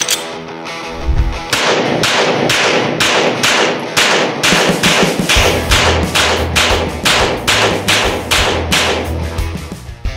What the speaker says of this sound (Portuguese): simular um tiro um pouco mais rápido.